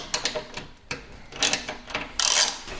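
Ratchet backing out 5mm bolts that hold the fuel tank on a Yamaha R6 motorcycle, heard as a few close bursts of quick clicking with short pauses between them.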